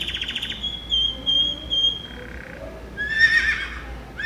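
A horse whinnies in short bursts among chirping bird calls and tonal beeps, fairly close and loud, with no talking.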